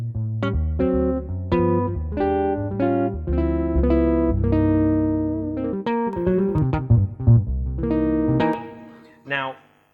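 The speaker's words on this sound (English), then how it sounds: "Jazz guitar." A jazz guitar patch played on a Roland EA7 keyboard: clean, melodic notes and chords in a flowing phrase, ending with a short final note.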